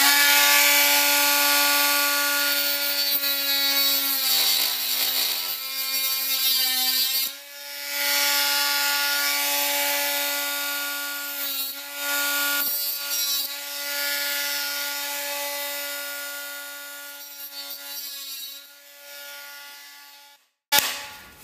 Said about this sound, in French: Là, j'utilise la petite meuleuse. Je prends le disque à métal. Il est très très fin et il abîme pas le carreau.